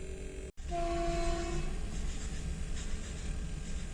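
A passing train roars steadily nearby while its horn sounds once in a sustained tonal blast near the start, then fades into rumbling wheels.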